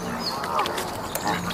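A toy duck quacks amid a few short honking squawks, heard moderately close against a busy background.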